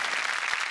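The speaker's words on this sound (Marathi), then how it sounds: "जोरदार टाळ्या तौफिक सरांसाठी झाला पाहिजे." A TV comedy show studio audience gives a short, loud burst of dense applause for Taufiq Qureshi.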